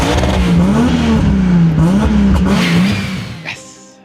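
A loud car engine revs up and down in steady waves, its pitch rising and falling, then fades out abruptly.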